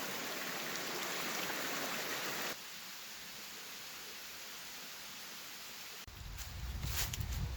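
A creek on a wild camping trip, its water flowing as a continuous broadband rush that drops in level partway through, then is joined by a louder, closer, rumbling disturbance near the end.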